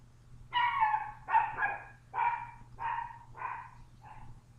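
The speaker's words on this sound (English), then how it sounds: "My dog still wants to get in on this." A dog barks five or six times in a steady series, moderately close, each bark short and clear over a faint low hum in an otherwise quiet room.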